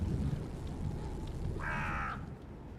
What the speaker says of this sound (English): those crows are so loud